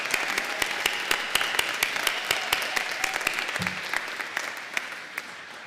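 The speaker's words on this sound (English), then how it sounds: "can we give your friends and family and everyone here a round of applause?" Applause ripples through a university graduation ceremony crowd in Coleraine, with sharp individual claps standing out over a steady wash of hands, fairly distant and sustained throughout.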